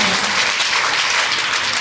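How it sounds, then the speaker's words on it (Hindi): A crowd at a DXN business meeting gives steady, dense applause for Naveen sir. The clapping is loud and continuous throughout, with no voices over it. "नवीन सर के लिए जोरदार ताली होना चाहिए"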